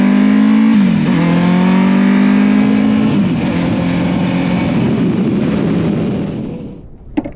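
A 15-year-old, 200 hp Kawasaki Ninja ZX-14 engine revs loudly up close, its deep rising roar climbing then holding a harsh, rough drone before dying away, ending with a sharp click.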